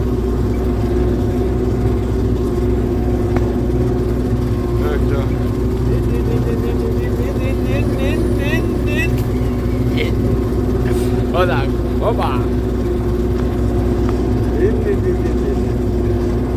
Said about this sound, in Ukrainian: По три корпуса трактор тяне і два корпуса трактор тяне.